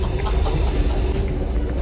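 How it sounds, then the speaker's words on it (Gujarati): The Kuranda Scenic Railway train running near Cairns, a loud, steady rumble of rolling wheels on track with a sustained metallic whine, close by and with no talk. "આ ટ્રેનનો સાઉન્ડ આપણા દિલ્હી જીતી લે એવો છે"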